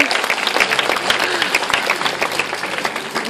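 A zoo audience at Taronga Zoo claps for Ronnie, a New Zealand fur seal, a loud close crackle of many hands with sharp individual claps, steady for the whole stretch.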